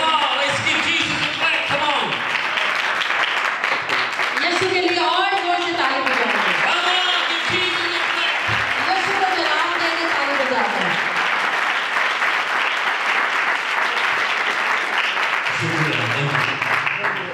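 A gathered audience gives a loud, sustained round of applause to welcome a guest speaker at a religious gathering, with voices and a speaker talking through it.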